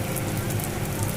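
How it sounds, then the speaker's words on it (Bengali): Palm fruit pitha made with a little rice flour sizzles in hot oil on a gas flame, giving a dense, steady crackle that fills the brief moment close up. "তো এখন এটাকে ভেজে নিব।"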